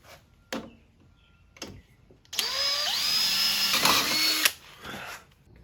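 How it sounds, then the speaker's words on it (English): A power drill bores out strut tower holes on a 2002 Ford Mustang. After a few light clicks, the whining motor winds up and runs for about two seconds, then cuts off, followed by quieter taps. "Now I'm gonna start drilling these out."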